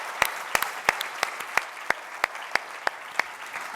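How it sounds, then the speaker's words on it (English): A conference audience applauds, with sharp individual claps ringing out at a steady, sparse rhythm over a quiet room, fairly close and moderately loud. "we'd love to give them a quick round of applause for all their work on this"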